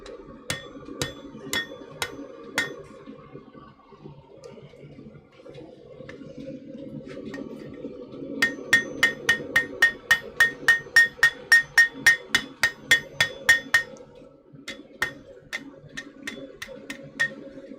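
Metal struck repeatedly on an anvil in a blacksmith's smithy, with the anvil used as a form: a few spaced blows, then a quick regular run of about fifteen ringing hammer strikes, close and loud, followed by a few scattered hits.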